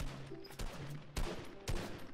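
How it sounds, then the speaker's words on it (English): Bursts of rapid gunfire from another player ring out in a Fortnite match, three clustered volleys of shots over a dense, busy game background. "there's someone else shooting at me"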